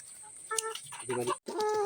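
Several chickens cluck and squawk close by in short bursts, with a brief pause before the clucking resumes.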